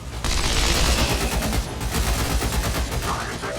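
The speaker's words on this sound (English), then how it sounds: "Let's just pull out our pistol." A pistol shot from XCOM 2 starts a loud burst of gunfire, followed by rapid, sustained sharp reports and booming impacts that stay close and dense for several seconds.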